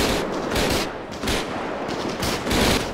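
Rapid, dense automatic gunfire in GTA 5 during a battle against terrorists alongside an infantry fighting vehicle, sustained bursts crackling continuously and loudly with no talk over it.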